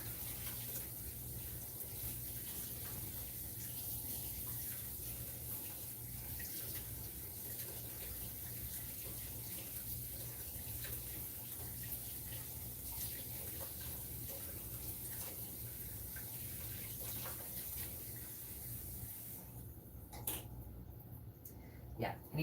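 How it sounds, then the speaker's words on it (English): A whisk is rinsed under a steady stream of running tap water that flows continuously at close range, with a voice talking over the splashing. "Always rinse off your whisks."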